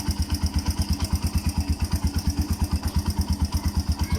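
A Suzuki 125 motorcycle engine runs after an overhaul, giving a close, steady idle whose even, fast thumping pulses continue without a break for several seconds.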